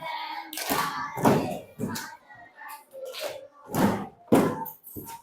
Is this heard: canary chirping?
no